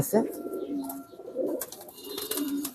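Giribaz pigeons in a loft give a series of low, rolling coos close by, repeating in short bursts over faint background rustle.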